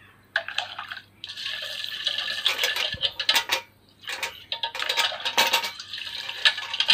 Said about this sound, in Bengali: ভালো করে ধুয়ে নিয়ে দেখিয়ে দিই কতটা পরিষ্কার হয়েছে